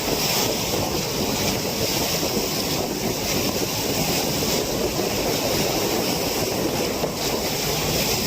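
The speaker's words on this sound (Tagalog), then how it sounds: "Kaso mahangin-hangin ako dito" Steady roaring wind buffeting the microphone over a constant wash of surf at a Tacloban City seashore at sunrise, loud and unbroken throughout with no voices.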